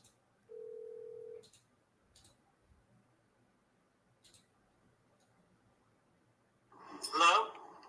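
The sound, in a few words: telephone call being dialed and ringing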